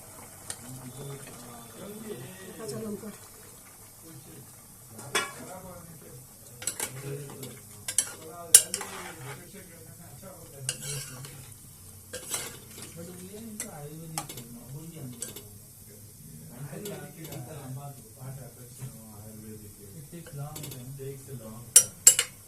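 Vegetables tossed into a pan of jackfruit seeds, ridge gourd and dried fish with a little hot water and stirred, giving intermittent scraping clinks and soft sizzling under faint background sound.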